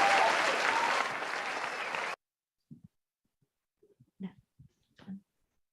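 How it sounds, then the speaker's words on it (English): Conference attendees applaud a poster presentation winner at a health systems forum, a loud, dense burst of clapping for about two seconds that cuts off sharply, followed by silence and a few faint, brief voice fragments. "give applause"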